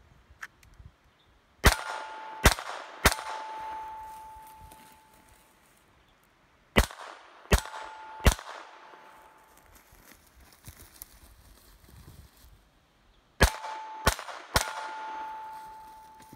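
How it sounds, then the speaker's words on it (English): Three groups of sharp, loud gunshots crack at close range during a defensive shooting drill, each burst followed by a ringing tail and quiet gaps in between. "This time I'm gonna shoot 3 times and I'm gonna displace."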